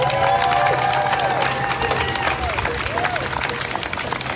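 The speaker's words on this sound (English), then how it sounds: "Give them a round of applause." A crowd at a live grassroots activist gathering claps steadily, with cheering and raised voices mixed into the applause as it gradually tapers.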